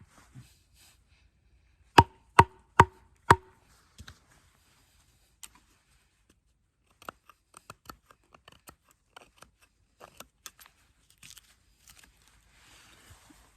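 A knife carves a tent stake notch into wood, starting with four sharp, evenly spaced knocks, then sparse, quieter clicks and scrapes over an otherwise quiet background.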